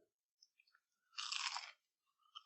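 Eating a crunchy food dressed with Sir Kensington secret sauce: a single loud, close bite-crunch lasting about half a second, framed by faint smacking mouth sounds and light chewing in near silence.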